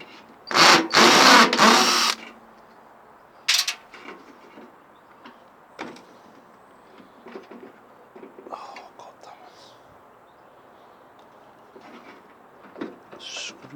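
A drill whirs in a loud two-second burst while driving screws into a microwave, followed by a brief second burst, then quieter clicks and handling noises with soft talking.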